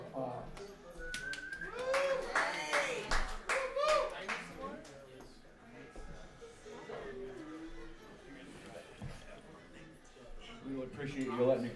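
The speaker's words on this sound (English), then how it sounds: "Give him a big round of applause." Audience applause and cheering at a live Christmas night show after a jazz performance of a standard, with claps and whoops mixed among crowd voices, loud and close throughout.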